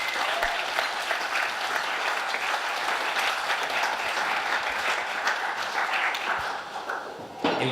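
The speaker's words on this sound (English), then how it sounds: "I think she deserves a round of applause." Wedding guests applaud at a reception, a dense, steady burst of clapping that fills the room for several seconds before thinning slightly near the end.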